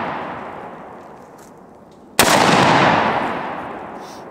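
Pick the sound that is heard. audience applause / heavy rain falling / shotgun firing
shotgun firing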